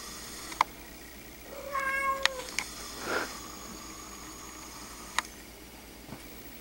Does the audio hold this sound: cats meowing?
yes